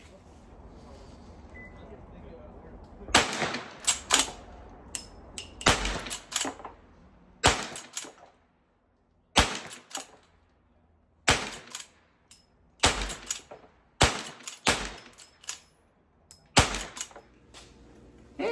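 An 1873 lever-action rifle in 45 Colt fires about a dozen sharp, loud shots spaced a second or two apart, each with a brief echo and quieter action clicks between them.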